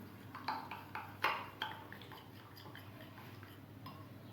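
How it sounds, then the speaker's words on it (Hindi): A spoon stirring soy sauce into chicken sandwich filling in a bowl: a string of light clinks and taps, fairly close but quiet, strongest early on and then fading to softer scrapes. "इसे हम अच्छी तरह से मिक्स कर लेते हैं।"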